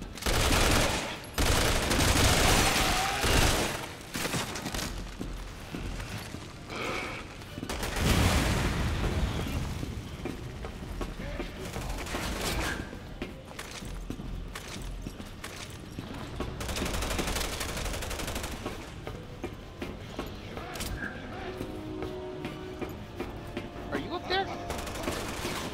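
Repeated gunfire and booming blasts in the action video game Resident Evil 6, loud bursts early then a steady rattle of shots and impacts running on under occasional speech.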